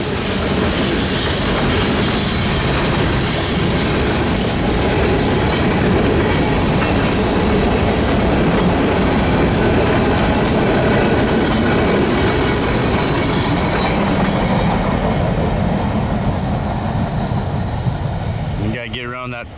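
A Canadian National freight train with big locomotives and clean, untagged cars rolls past loudly and steadily in Iowa countryside, wheels clattering and squealing throughout, then the sound cuts off abruptly at the end.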